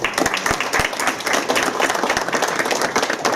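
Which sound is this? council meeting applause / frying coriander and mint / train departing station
council meeting applause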